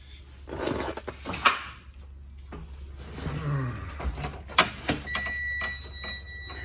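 Metal keys jingle and clatter in a few short bursts, close by, followed by a steady high electronic tone from a buzzer.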